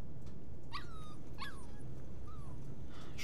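A puppy whimpers in the Life is Strange 2 video game: three or four high, rising-and-falling whines, fairly clear over a low steady background hum.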